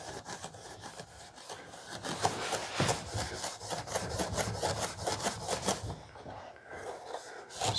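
A Scotch-Brite pad rubs back and forth over a thin chrome-coated plastic headlight for a 1940 Ford-inspired hardtop coupe, a close, steady scratchy scrubbing that stops briefly near the end.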